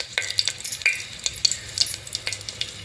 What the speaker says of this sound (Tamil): ஆயில் நல்லா காஞ்சிருச்சுங்க. 2 வரமிளகாய் தாளிக்கிறதுக்கு சேர்த்திக்கலாம்.